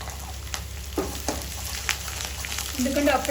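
Ginger garlic paste frying in a pan for stuffed brinjal curry, a steady sizzle with a few sharp spatula clicks and a brighter crackle building near the end.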